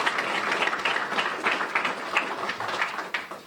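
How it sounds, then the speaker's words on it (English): Applause from a crowd gathered at a police department press briefing, many hands clapping in a dense, steady patter at moderate loudness, with no talking. "We can clap for him too."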